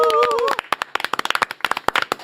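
A small studio audience welcomes a guest with sparse, crisp, separate handclaps after a brief voice, the claps ringing out close and distinct rather than blending into a roar.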